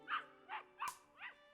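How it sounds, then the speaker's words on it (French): A small dog barks in a Sherlock Holmes video game, four short yappy barks spaced evenly apart, clear and alone over a faint hum. "Un petit chien."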